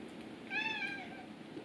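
A cat at a window lets out a single drawn-out meow over a quiet room hum, ending with a brief knock.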